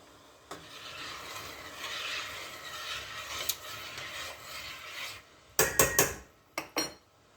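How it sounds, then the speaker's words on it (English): Syrup being stirred in a pot for baklava, with a steady soft scraping and rubbing of a utensil against the pot for several seconds, followed by a few sharper clinks of metal on the pot near the end. "Let me stir my syrup."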